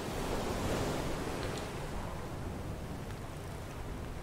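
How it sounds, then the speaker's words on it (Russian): Ocean waves in the video game FAR: Changing Tides, a steady broad rushing surf with a windy hiss, fairly close and fading slightly over a few seconds. "опять волны."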